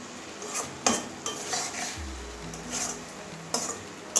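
A spoon scrapes and clinks against a pan while kochur loti (taro stolon) curry with garam masala is stirred, giving several sharp metallic knocks over a soft sizzle, close and with no talking.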